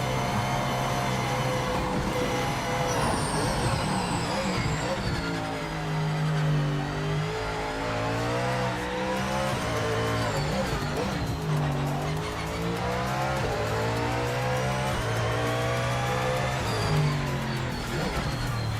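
A race car in the Project Motor Racing sim revs hard with a constant engine roar as its tires squeal through corners. The rising and falling pitch runs loud and close the whole time.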